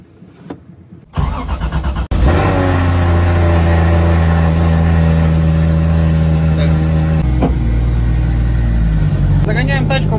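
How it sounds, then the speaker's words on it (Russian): A car engine cranks from a cold start and catches, then settles into a loud, steady idle close by. "Холодный запуск."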